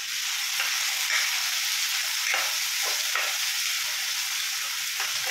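Finely chopped tomatoes with salt frying in a pan, a steady bright hiss of sizzling with occasional soft stirring scrapes, close up and with no talking.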